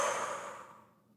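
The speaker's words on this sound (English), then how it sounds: "And a powerful exhale out the mouth." A single forceful breath blown out through the mouth as part of a breathing exercise, a close, loud airy whoosh that starts strong and tapers away over about a second.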